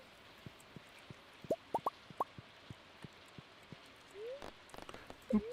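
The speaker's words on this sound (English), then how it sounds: "It's raining out. I can hear that." Quiet, steady rain patters in the video game Stardew Valley, with scattered drips and soft plops landing nearby.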